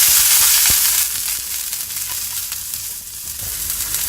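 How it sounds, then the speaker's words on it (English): Carrots and capsicum stir-fry in a pan on high heat for vegetable fajitas, a loud hissing sizzle that eases slightly after a second, with intermittent stirring clatter up close. "next goes in the carrots and the capsicum, and we have to stir fry this."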